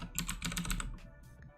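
Rapid, close-up clatter of keys on a computer keyboard, a quick burst of typing that tapers off, with no voices.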